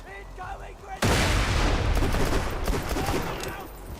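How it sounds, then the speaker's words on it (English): A grenade explodes in the Borderlands 2 video game, a sudden loud blast that cuts in about a second after quieter game sounds and decays into a rumbling, crackling tail. "Incoming grenade."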